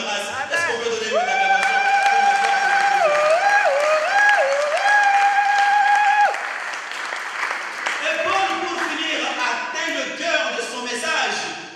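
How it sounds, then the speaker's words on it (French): A congregation during a church sermon responds with loud applause and vocal acclamation, sustained shouts and ululating cries over steady clapping, easing after a few seconds into scattered voices and continuing claps. "Est-ce qu'on peut donner une acclamation?"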